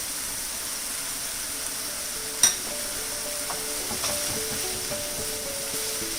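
Turmeric, salt and black pepper fry in a pan for chicken curry, making a low, steady sizzle with a sharp clink of a utensil and some light stirring scrapes.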